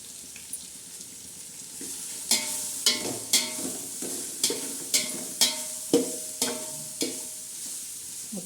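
Bay leaf and curry leaves frying in oil with garlic paste, a steady sizzle broken by regular scraping stirs, roughly one every half second, close and clear with no talking.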